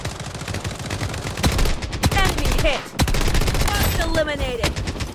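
Rapid automatic gunfire from a Vector and KAG 6 in the shooter game Blood Strike rattles in loud, dense bursts nearly the whole time, with a brief gap midway.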